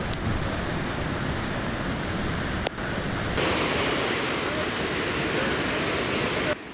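Rough sea surf pounds the shore at Moorkkam beach near Point Pedro in northern Sri Lanka, a loud and continuous roar of crashing waves with heavy wind noise on the microphone.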